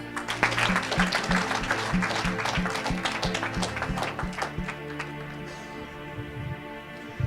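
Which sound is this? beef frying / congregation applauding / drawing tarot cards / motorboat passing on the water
congregation applauding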